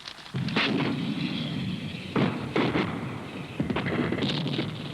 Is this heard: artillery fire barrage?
yes